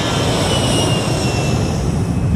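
An airplane in flight, heard as a steady, loud broadband engine roar with a faint high whine, continuous and unchanging throughout, with no voices.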